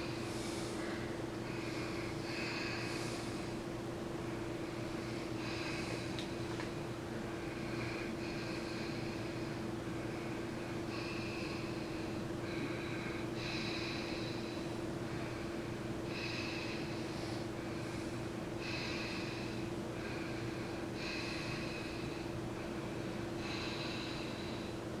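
A child's repeated deep breaths during a chest exam, about a dozen slow, even inhales and exhales heard close up over a steady low hum, with no talking.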